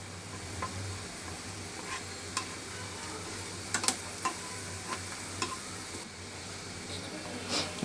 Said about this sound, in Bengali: পেঁয়াজ ভাজে বাদামি রঙের হয়ে গেছে। এখন এর মাঝে আমরা আস্ত জিরা দিয়ে দিলাম।